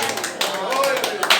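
Applause from a church congregation fills the moment, steady clapping mixed with a voice speaking over it and a brief tonal line.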